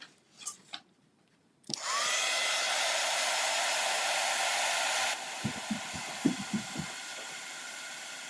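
A heat gun on a desk switches on with a click and runs as a loud, steady blowing hiss for several seconds, then drops to a lower setting, with a few soft knocks and taps underneath.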